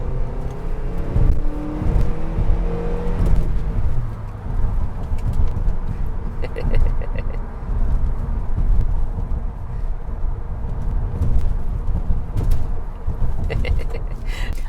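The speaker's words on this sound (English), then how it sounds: "so how does the Accord actually drive? Here's a couple twisties." A 2011 Honda Accord four-cylinder sedan driving a twisty road, heard from inside as a steady engine drone with road and tire rumble, engine note rising briefly under acceleration, with no talking.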